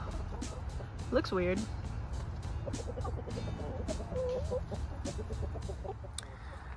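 Chickens cluck on and off nearby, with one louder squawk early on, while a person speaks briefly and background noise hums underneath.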